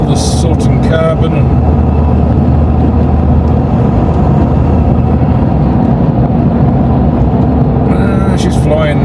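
Ford Ranger Wildtrak cruising at speed on the motorway, a constant loud rumble of engine and road and wind noise with no break in the sound.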